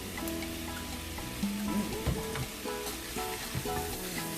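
Food sizzles steadily in a hot pan while previously frozen ingredients are sautéed, a continuous crackling hiss with faint stirring and utensil scrapes, close and moderately loud with no talk.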